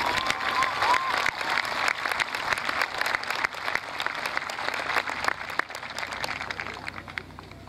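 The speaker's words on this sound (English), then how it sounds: "give yourselves a round of applause" Sustained applause from a large crowd at a high school commencement ceremony, dense steady clapping filling the hall for several seconds and gradually thinning toward the end.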